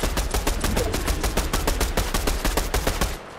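Rapid automatic gunfire from a video game firefight sounds as sustained suppressing bursts, loud and close, with sharp evenly spaced reports for about three seconds before cutting off.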